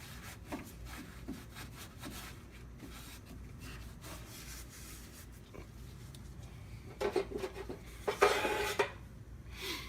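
A rag wipes the gasket surface of a Ford 4R70W transmission clean, giving soft, quiet rubbing strokes, with a few louder scuffing bursts toward the end.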